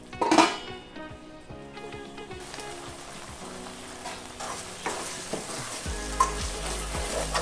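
Pepper chicken masala base with tomatoes and yogurt cooking in a pan, steady sizzling and bubbling with lid and pot clatter, a sharp clank near the start and rattles later on.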